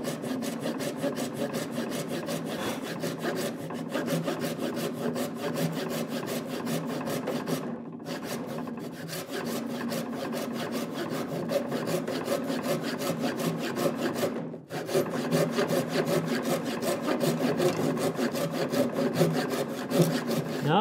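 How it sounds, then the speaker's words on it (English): A saw cuts wood for a workbench drawer in a long, steady run of rhythmic rasping strokes, close and loud, with two brief pauses. "you might want to go with a regular handsaw on the inside"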